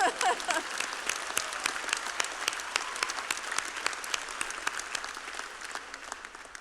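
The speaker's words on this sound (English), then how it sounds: "yes, you can clap" Graduates clap at a business school spring convocation ceremony, steady dense applause from a large crowd indoors, continuous crackle of many hands throughout.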